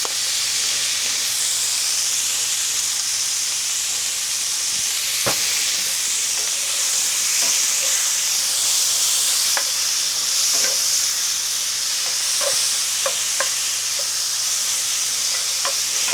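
Steak and onions sizzle steadily in a hot pan with a constant bright hiss, and occasional sharp clicks and scrapes of stirring break through, close up and without talking.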